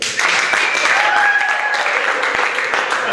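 Audience applause at an entrepreneur's speech in Kansas City, a dense clapping crowd held steady at close range for several seconds, with faint whistling tones over the top.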